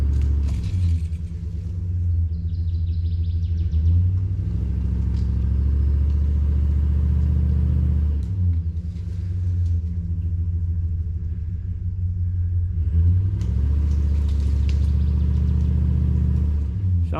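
A four-wheel drive vehicle strains to pull a tree on a steep slope, its engine giving a loud, steady low rumble that surges and eases in repeated pulls, with no talking over it.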